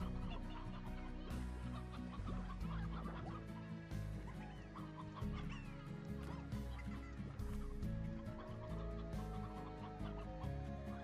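Chickens cluck repeatedly in the farming game Slime Rancher, set over a steady, busy bed of game music that runs throughout with no one speaking.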